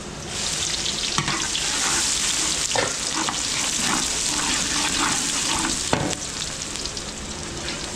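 Garlic and onion sauté in hot cooking oil in a pan at an outdoor food event, giving a steady, close, loud sizzle with occasional sharper crackles and stirring clatter throughout.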